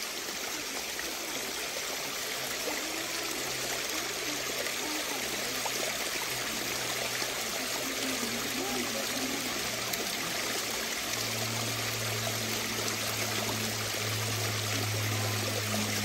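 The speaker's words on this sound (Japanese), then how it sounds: "これ見るべき滝だね" A small waterfall and stream on a mountain hiking trail rush steadily and close by, a continuous broad splashing flow with faint voices now and then underneath.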